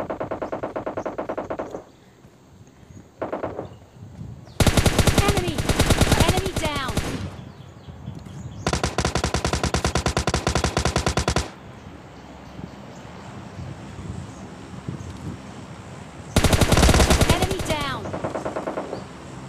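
Bursts of automatic gunfire crack through a mobile battle-royale game fight near a supply drop, coming in several loud sustained volleys separated by quieter gaps.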